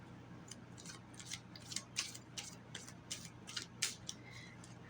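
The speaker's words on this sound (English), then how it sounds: "I know shuffling takes a while sometimes when I do these readings." Crisp, irregular riffling and snapping of tarot cards being shuffled, a rapid run of dry flicks close by, with no talking.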